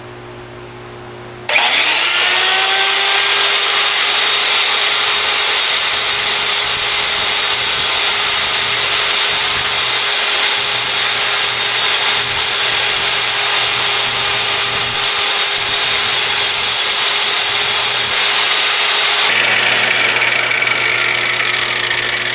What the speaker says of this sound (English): now I'm going to just kind of grind down these edges